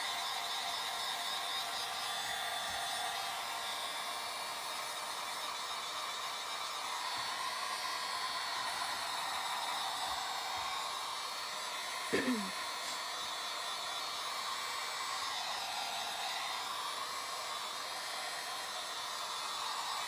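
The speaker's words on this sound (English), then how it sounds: "Can you hear me over the dryer?" Steady whooshing drone of a hair dryer running continuously, with a brief faint clatter partway through.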